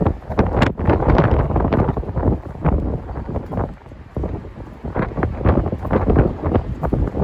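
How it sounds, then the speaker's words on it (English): Strong gusty wind batters a microphone outdoors in New York City at night, a loud, constant roaring buffet that surges and dips in waves without pause. "It is extremely windy"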